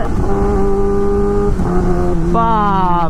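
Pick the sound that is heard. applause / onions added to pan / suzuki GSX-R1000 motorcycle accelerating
suzuki GSX-R1000 motorcycle accelerating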